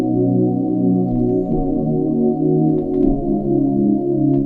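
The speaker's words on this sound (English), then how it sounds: "I'm gonna start off this melody by using this sound inside Sky Keys called Enter Mirror" A sustained synth keys preset called Enter Mirror from Sky Keys plays a slow melodic chord progression in an emotional beat style, with rich layered tones shifting every second or so, loud and alone without any voices.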